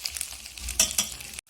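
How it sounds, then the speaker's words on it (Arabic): Washed rice frying in a pan with two spoons of oil, salt and cinnamon, a soft steady sizzle with a couple of brief louder scraping bursts from stirring, ending abruptly. "غنبدا نحرك فيه بحال غيتقلى شي شويه"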